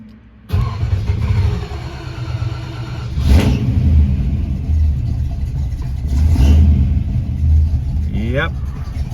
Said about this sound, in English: we'll start it up and see if it returns after a quick stab of the throttle